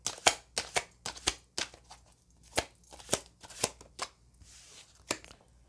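Tarot cards are shuffled and pulled in a rapid series of crisp riffling bursts, each a few tenths of a second long, close and fairly loud with short pauses between, and no talking.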